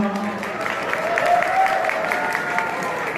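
Wedding guests in Daegu keep applauding as a singer is welcomed: continuous crowd clapping with a voice speaking over it and a faint tonal hum.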